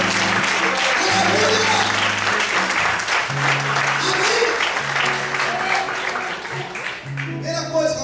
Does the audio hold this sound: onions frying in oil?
no